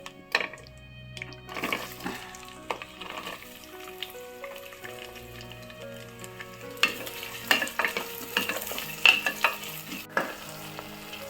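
Onions go into hot oil for green peas pulao, giving a soft sizzle with scraping and clattering of a utensil, fairly quiet and close, livelier and busier toward the end.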